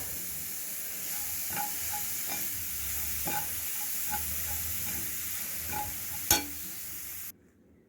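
Spicy idiyappam stuffing sautéed in a pan, a soft steady sizzle with scattered light spatula taps and one sharp knock near the end before it cuts off.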